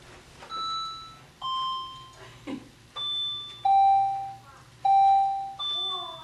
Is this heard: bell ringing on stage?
yes